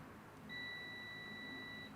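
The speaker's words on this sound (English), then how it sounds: "Hear that beep?" Single steady electronic beep from a John Deere 317 garden tractor with a Kohler Command CH18S engine as the ignition key is turned on, a clear held tone lasting under two seconds over faint background hiss.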